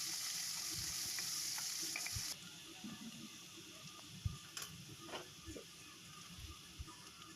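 Chopped onions, added after cumin, sizzle in hot oil in a pan while a spoon stirs them, for a bitter gourd curry. A steady frying hiss runs throughout, with scraping stir knocks near the mic that grow louder toward the end.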